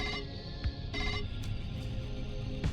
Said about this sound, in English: the phone in your office rings